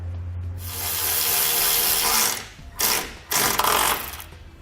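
A ratchet tightens a 10mm nut on a Blue Ox base plate fitted to a 2017 Jeep Cherokee: one long steady clicking run, then two short bursts.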